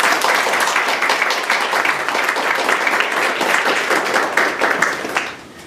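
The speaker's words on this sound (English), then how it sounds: "he deserves a round of applause" Sustained audience applause for a speaker before a talk on depression from a Spiritist view, dense steady clapping lasting several seconds before thinning at the end.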